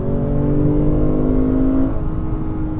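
A Lexus GS F V8 on the road revs hard under acceleration, its engine note rising as the gear is held, then dropping as power eases; loud and close, heard from inside the car, no talk.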